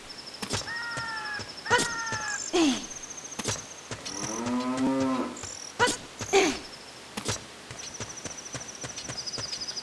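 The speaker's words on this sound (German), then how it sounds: "Da schreit die Kuh, gell?" A cow moos in the video game Zelda: Ocarina of Time, one long lowing call in the middle, set among sharp in-game clicks, chimes and effects.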